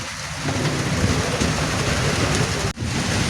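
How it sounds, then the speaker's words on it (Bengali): Steady rain pours down outdoors during a thunderstorm, a dense, even hiss that holds at one level, with a brief dip near the end. "আর এখন একটু বৃষ্টির চাপ কমছে, হালকা হালকা ফোঁটা ফোঁটা করতেছে।"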